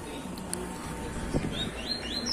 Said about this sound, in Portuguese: cria o passarinho dela